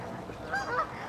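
Chicken squawking in brief nasal honk-like calls as riders pass on a two-person e-bike outdoors, two short cries close together over steady background noise, no talking.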